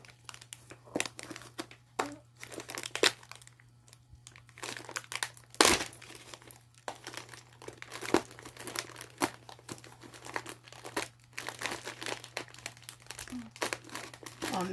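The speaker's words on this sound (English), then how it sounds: "I was trying just to rip the cardboard to get the bag out, but it ripped the bag" Cardboard packaging from a mailed eBay parcel holding a McDonald's Kala and Young Tarzan toy is torn and crinkled by hand, with repeated close rips and crunches over a low steady hum, plus a sharp burst of tearing midway.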